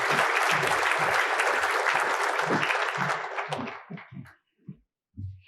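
A luncheon audience claps in a dense, sustained round of applause that thins out into a few scattered claps and then stops.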